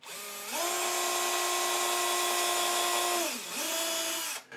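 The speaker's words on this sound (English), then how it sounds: "I will drill an actual hole" A power drill whirs up to speed and holds a steady whine while drilling a hole for an under-desk mount, dips briefly as it bogs down, then spins back up before stopping.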